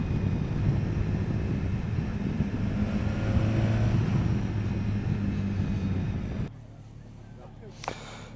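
A BMW S1000XR motorcycle ridden on the road gives a steady, loud engine and wind roar that drops abruptly quieter near the end, followed by a brief faint rustle.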